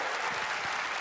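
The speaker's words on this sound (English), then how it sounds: "let's give him a huge round of applause" A crowd applauds at the GT World Series 2025 World Finals esports event, heard as a brief, dense burst of steady clapping.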